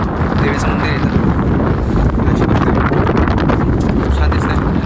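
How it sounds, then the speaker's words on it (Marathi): Strong gusting wind roars steadily across an exposed trail on the Chanderi fort trek in the Sahyadri hills, buffeting the microphone with loud, continuous low rumble throughout. "वारा तर एवढा सुटला बापरे"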